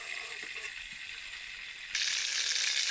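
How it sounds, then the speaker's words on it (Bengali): Stuffed pointed gourds frying in a pan of oil, a soft steady sizzle that suddenly grows louder and brighter partway through, heard up close without voices. "প্রথমবারে যে 4টা দিয়েছিলাম সেগুলো খুব ভালোভাবে ভাজা হয়ে গেছে, তারপরে আর যে 4টা বাকি ছিল সেগুলোও ভালোভাবে ভাজা হয়ে গেছে।"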